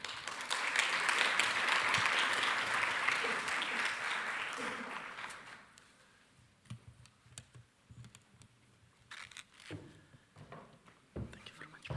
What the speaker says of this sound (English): please give a round of applause and welcome Judge Whitcher